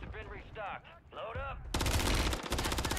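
A new gun fires in a video game, a loud rapid burst of automatic fire that follows a stretch of voiced game chatter and dominates the last half.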